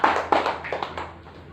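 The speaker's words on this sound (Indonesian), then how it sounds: "Tepuk tangan anak-anak" Children in a classroom clapping: a brief, scattered patter of hand claps, fairly close, that trails off within about a second and a half.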